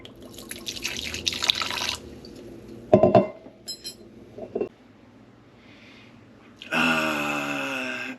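Whiskey glugs briefly into a glass, followed by a clink and a gentle pour, with quiet pauses between.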